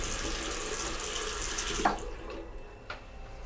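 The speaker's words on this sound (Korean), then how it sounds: "그 후로도 화장실 물소리는 계속됐고" Water pours steadily from a bathroom tap, a dense close hiss that drops off abruptly partway through, leaving faint drips and a quiet room.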